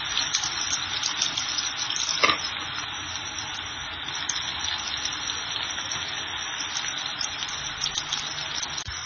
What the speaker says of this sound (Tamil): வெங்காய பத்திர நல்லா வந்து பொறிச்சு வருது.